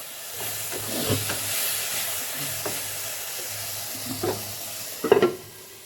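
Onion and chili frying in a pan for a prawn curry, a soft steady sizzle with occasional stirring clatters and a sharper spatter near the end.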